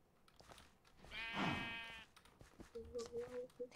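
A Minecraft sheep bleats once, a loud, wavering baa close by, followed by quieter game tones as players talk.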